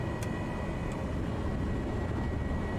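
Cessna 208 Caravan turboprop engine idling steadily in a flight simulator, a continuous droning hum with a faint whine, with no talk.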